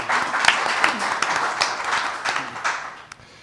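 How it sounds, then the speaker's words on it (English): Applause from a modest audience follows a research presentation on non-farm activity in farm zones, a few seconds of scattered clapping that thins and fades out. "how about a round of applause for him?"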